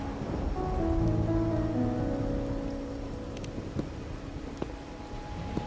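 Steady rain falls in Wuthering Waves, a broad constant wash with a low rumble under it, joined by a few faint tonal musical notes and occasional light taps.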